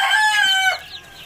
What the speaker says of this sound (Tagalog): itong manok na to